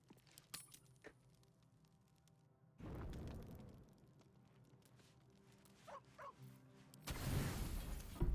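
A dog in Baldur's Gate 3 gives a couple of short barks, fairly faint, mixed into game ambience with quiet stretches, scattered taps and two louder bursts of rushing noise.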